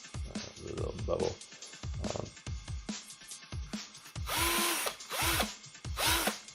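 A Moveta 21V cordless drill whirs in short bursts, three spins near the end, after a stretch of clicks and handling noises.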